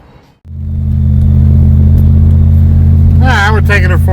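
A 2001 Dodge Ram truck with a cheap $50 exhaust starts up and settles into a loud, steady, deep idling rumble that fills most of the clip, with a person speaking briefly over it near the end.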